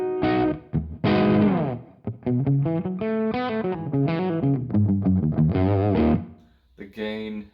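An electric guitar played through a Wampler Ratsbane distortion pedal with gain fully up and a touch of reverb rings out in crunchy sustained chords and single notes, then briefly cuts out before a final strum.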